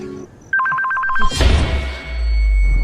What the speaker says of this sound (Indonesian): ponsel Jack pun kembali berdering